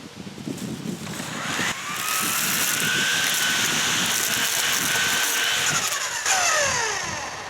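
A petrol weed eater fitted with homemade blades spins up to a loud, steady whine with a rising pitch, holding close and constant for several seconds before tailing off.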